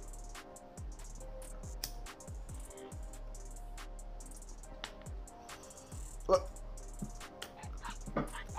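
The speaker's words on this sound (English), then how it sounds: "It's a puppy." Repeated short barks and yips from a puppy in the zombie survival video game Days After, spaced irregularly over a quiet electronic background with faint clicks.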